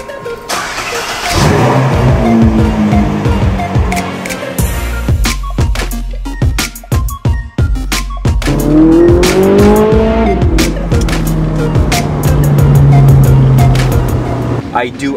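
A car accelerates hard with sustained tire squeals and skidding, engine revving loud and close through gear changes, with brief talk mixed in.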